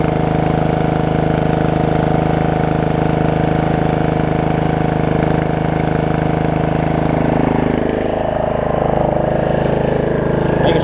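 A Snapper RER riding lawn mower's engine runs steadily and loudly at idle for the whole stretch, an even mid-pitched drone with no talk over it.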